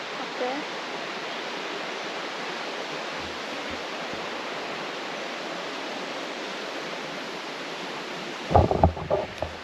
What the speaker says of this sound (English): Sounds like there's a waterfall or something up there